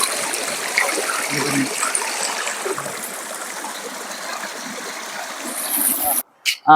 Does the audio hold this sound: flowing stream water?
yes